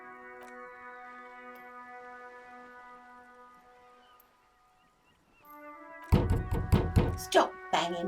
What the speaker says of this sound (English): Stop banging on the door.